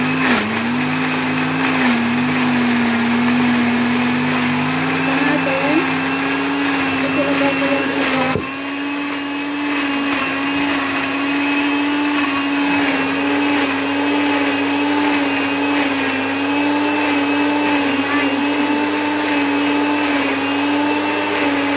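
An electric blender whirs loudly and continuously up close, mixing plums and berries for jam, its motor pitch shifting briefly partway through before holding steady.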